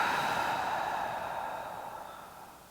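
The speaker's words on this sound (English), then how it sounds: "Hold it there. Open mouth, exhale." A single open-mouth exhale during a yoga core workout, a soft, breathy rush of air that fades gradually over a few seconds, close and quiet with no talking.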